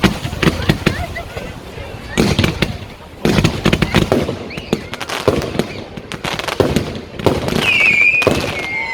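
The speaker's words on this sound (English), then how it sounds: "So there's the 2 Roman candles coming in as well." Fireworks display at St James in the City, Liverpool, with a cake firing pairs of Roman candles: repeated sharp bursts, pops and crackles in clusters, a whistling streak near the end, and background crowd voices.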